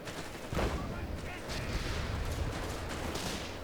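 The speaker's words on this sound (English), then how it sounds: "we got 2 mortars striking these guys" In Company of Heroes 3, mortar rounds strike advancing infantry, giving repeated booming impacts and crackling gunfire in a dense, continuous battle din.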